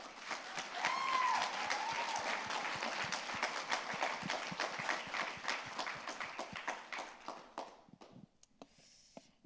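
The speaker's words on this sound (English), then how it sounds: "So please give them another round of applause." Moderately distant applause from a TEDx event audience for the organizing team, distinct claps forming a steady wash that thins out and trails off into a few scattered claps by the end.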